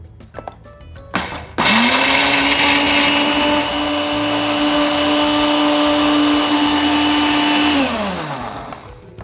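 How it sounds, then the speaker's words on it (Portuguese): An electric blender whirs loudly at close range as it beats eggs for condensed milk pudding, starting after a brief clatter, holding a steady high motor whine for about six seconds, then winding down. "a gente primeiro vai colocar os ovos, e vamos deixar bater bem, para quebrar todas as partículas e moléculas do ovo"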